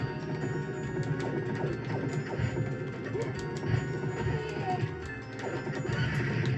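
A horse whinnies amid a busy mix of game music and sound effects from Knights of the Round on the original Xbox, with hoofbeat-like clatter underneath.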